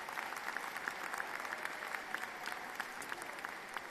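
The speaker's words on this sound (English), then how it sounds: "Please give her a round of applause." An audience at a graduate business school commencement applauds an honoree receiving her MBA, a steady, distant spread of many hands clapping at low volume, with a few sharper claps standing out.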